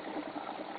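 Water trickles steadily from grow beds down into the sump tank of a homemade aquaponics system, a continuous soft splashing and gurgling heard close by without a break.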